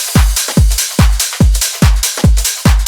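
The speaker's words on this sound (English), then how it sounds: "And I've got some top loops on there and some crashes, and all together they sound like this." Swung dance drum loop in a UK garage style, with punchy kicks, skippy ghost snares, busy top loops and crashes, playing as a loud, steady repeating groove with no voices.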